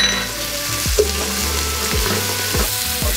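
Celery and diced carrots hitting a hot pan with garlic and caramelizing sausage, a loud continuous sizzle close by, broken by a few sharp scraping stirs and low mechanical rumbles.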